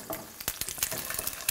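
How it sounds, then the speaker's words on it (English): Close, crackling sizzle of an egg frying in a pan, with quick pops and spits scattered over a soft steady hiss. "That egg is frying."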